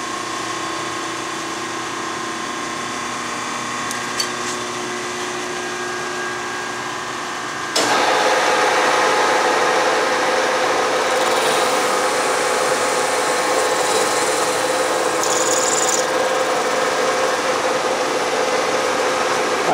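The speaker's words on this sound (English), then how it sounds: "Now I'm going to mill out the well for the flywheel." Milling machine cutting the flywheel well in a thin Stirling engine casting, a steady loud whirring hiss that jumps to a harsher, louder cutting roar partway through, continuous and close.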